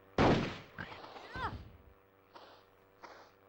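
A loud single gunshot from a PS1 video game bursts out sharply, followed by fainter in-game effects and someone talking over the softer tail.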